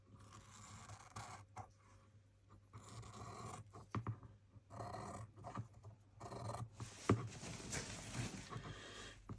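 Scissors cutting through flattened scrap packaging, with uneven snips and scraping rustles that stop and start close by, quiet and with no talk.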